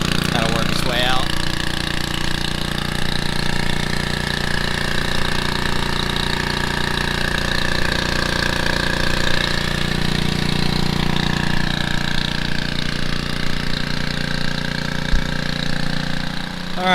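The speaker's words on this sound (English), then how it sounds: "while Will continues working the dredge nozzle" A gold dredge engine runs steadily on a creek while rocks are worked up through the suction nozzle, its loud mechanical drone continuous throughout with a brief knock near the end.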